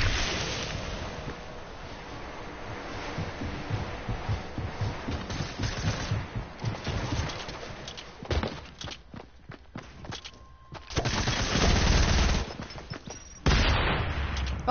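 Video game gunfire rings out in short automatic bursts and single shots amid footsteps and ambient game noise, moderately loud with brief quiet gaps between exchanges.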